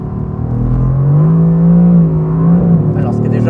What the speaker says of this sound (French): C'est parti, première accélération au volant de l'AMG GTR.